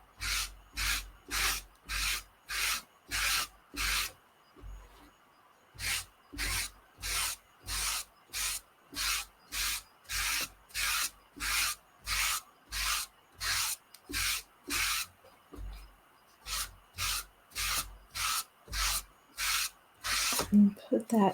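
Rhythmic strokes of surface wax being rubbed onto a craft pumpkin, about two per second, steady and close, with one brief pause partway through.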